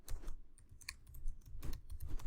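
Typing on a computer keyboard while entering details into patient records software: a quick, uneven run of close key clicks and taps over a low room hum.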